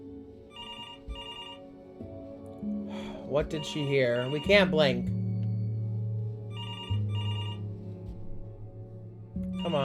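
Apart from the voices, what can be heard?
telephone ringing in the video game Before Your Eyes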